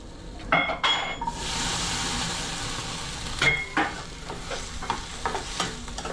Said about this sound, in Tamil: வெங்காயம் நல்லா அப்புறம் தக்காளி போ தக்காளியும் இப்போ சேர்த்து வதக்கணும்